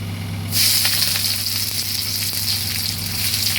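Thick-cut onions hit hot oil spiced with cumin and dried chillies for a Bengali chicken kosha, bursting into a loud, steady sizzle after a half-second lull and frying on close and constant.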